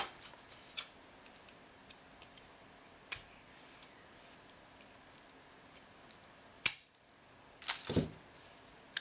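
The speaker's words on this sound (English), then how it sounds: "Now we're gonna cut that off on both sides." Small scissors snipping thread beside a pearl on silk embroidery earring beadwork, giving a few faint, sharp isolated clicks and snips spread over quiet room tone, with a louder snip near the end; no speech.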